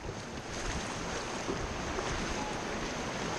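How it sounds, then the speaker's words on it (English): Rafting on a river, with a constant rush of moving water and wind-buffeted noise close by and no distinct paddle strokes, and no one talking. "Okay, paddle forward, guys."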